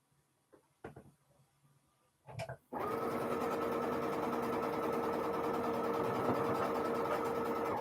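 A sewing machine stitches the rows of a quilt block together, starting after a few short taps and a brief burst of activity, then running steadily and loudly without a break to the end.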